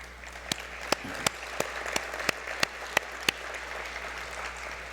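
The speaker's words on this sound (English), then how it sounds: "Let us give them a round of applause." An audience at a telecommunications conference closing session in Baku applauds ITU staff: continuous crowd clapping with a few sharp, close individual claps standing out.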